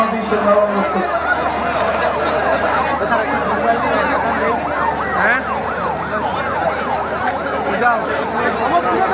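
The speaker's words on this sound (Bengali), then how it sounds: "আরে অ্যাম্বুলেন্স" An ambulance siren wails loudly and continuously in a repeating up-and-down sweep, close by, with traffic and voices underneath.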